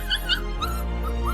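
A puppy whimpers in short, high-pitched whines, several brief cries over about a second, fairly faint and close with no talk.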